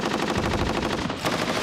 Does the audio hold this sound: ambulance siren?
no